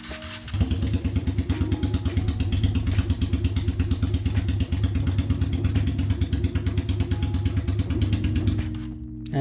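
A Honda bobber motorcycle idles with a steady, close, rhythmic clatter for several seconds, then cuts out abruptly near the end, leaving near silence.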